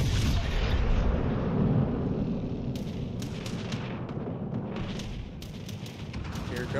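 A naval gun shell fires in World of Warships Legends, a boomy rumbling blast that fills the start and fades into a low roar, with scattered sharp cracks from further shots in the background.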